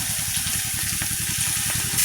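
Chopped onions hit hot oil with dried chilli, panch phoron, mustard seeds and garlic, crackling and sizzling loudly and steadily for a couple of seconds while frying crab curry.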